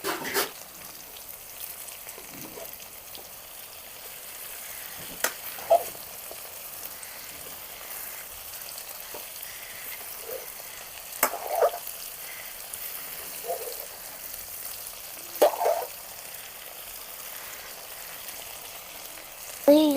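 Brinjal and tomato curry with green chillies frying village style: a soft, continuous sizzle broken by occasional sharp scrapes and clinks as the pan is stirred every few seconds.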